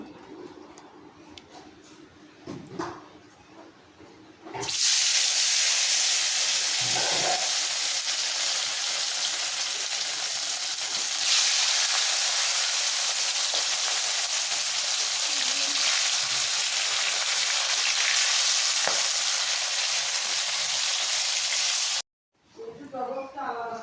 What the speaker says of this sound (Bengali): মাছগুলো সব ভেজে নিতে হবে একে একে